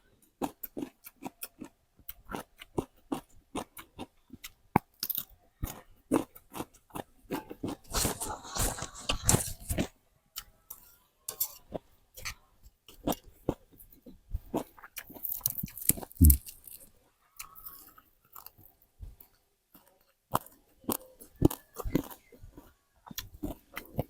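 Crisp deep-fried fish, fried hard because of its many small bones, being chewed close up: sharp crunchy bites and clicks in an irregular rhythm, with a few busier stretches of crunching and no talk.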